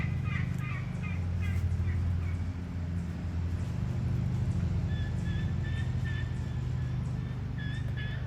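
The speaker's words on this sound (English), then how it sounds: "Saw this turkey on the other side of the back fence" A wild turkey gobbles behind a back yard fence in November, with a burst of rapid gobbling calls early on and more gobbles later, set against a steady low rumble of distant traffic.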